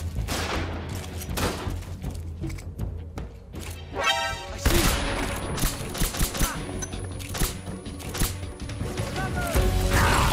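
Bursts of gunfire and explosions in the video game Metal Gear Solid 3: Snake Eater, a dense continuous barrage of shots and heavy thuds, loud and close, with game sound effects throughout.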